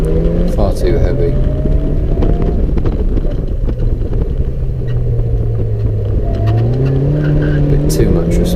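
Racing car engine droning steadily during a sprint race at Rushmoor, rising and falling in pitch through gear changes, loud and close with heavy wind buffeting over the microphone and a voice talking throughout.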